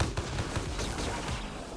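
Quick gunshots ring out in the Mullet Madjack video game, a short rapid run of fairly faint bursts lasting under two seconds.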